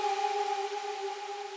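Two triangle waves an octave apart, pitched down a semitone and run through Valhalla Supermassive reverb, hold a steady soft tone with a washy reverberant tail, quiet and alone.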